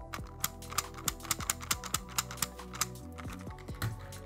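A Lingyao clock puzzle being turned, its plastic bumps giving a rapid series of sharp, close clicks in an uneven ratcheting rhythm, with no other sound around them.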